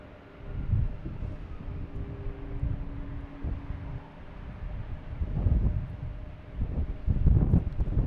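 Wind gusting across an open airfield at Boston Logan Airport in winter, rough low roaring that swells and fades in uneven surges, buffeting the microphone, with no talk.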